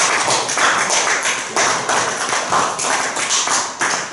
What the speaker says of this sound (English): So, hand clap for Sister Maria.